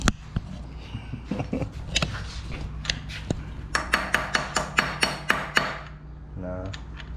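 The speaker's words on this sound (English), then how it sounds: "You have to hammer it on." Metal-on-metal hammer blows drive a socket onto a cam gear bolt in a workshop, a steady series of about ten sharp ringing strikes mid-clip after scattered clanks, close and loud.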